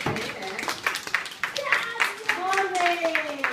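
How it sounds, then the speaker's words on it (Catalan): A group of children claps after a storytelling session, with scattered, uneven claps mixed with young voices talking and a sustained sung or called tone rising over the clapping. "Molt bé, doncs fem un aplaudiment?"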